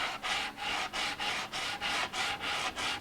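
An ES 335 guitar body being sanded with 80 grit sandpaper: steady back-and-forth rasping strokes, about ten in quick even rhythm, close and loud with no talking.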